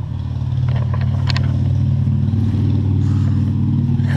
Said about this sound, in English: Hang on, motorbike.